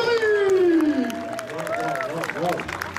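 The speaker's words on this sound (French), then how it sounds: "Je voudrais qu'on fasse un tonnerre d'applaudissements pour monsieur Nicolas Fleury." A live audience applauds athlete Nicolas Fleury at a French event, with clapping rising under loud cheering and a gliding, whistle-like voice, filling a short burst of crowd noise.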